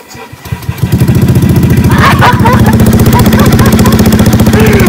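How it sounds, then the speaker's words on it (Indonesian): Fuel-injected motorcycle with a backfire exhaust starts on the electric starter: a few cranking pulses, then the engine catches into a loud, close, rapid chugging idle, with excited voices over it. "semoga bisa kita coba starter wih bisa, bisa, bisa"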